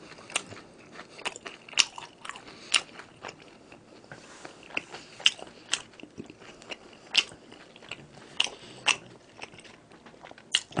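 Cheap frozen tonkatsu gets bitten and chewed: sharp, loud crunches recur every second or so over softer close chewing, with no talk.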